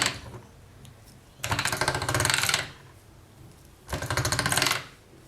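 Polymer clay is cranked through a pasta machine in two separate passes. Each pass is a loud rattling, ratcheting burst of about a second, with quiet pauses in between.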